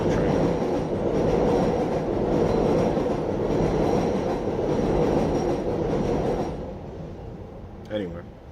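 A train rumbles past close by with a loud, steady roar that fades out near the end, followed by a brief voice.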